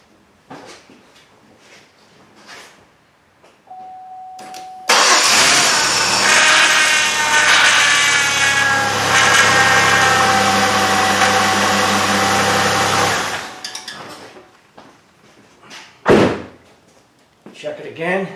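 The power steering pump on a 2002 Chevrolet Impala, engine running, gives a loud, harsh whining and grinding roar that lasts about eight seconds while the steering is worked, with quieter engine noise and brief knocks before and after.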